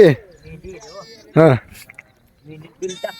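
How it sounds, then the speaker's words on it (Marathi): A sheep bleats loudly and clearly once in the middle, among a flock on the move with Balumama's herd, while people talk intermittently before and after it. "टकले मामा मेंढी गेली"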